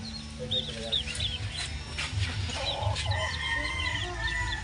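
Chickens cluck steadily at a backyard poultry farm in the Philippines, with a rooster crowing among them, close and continuous over low background noise and a voice speaking faintly.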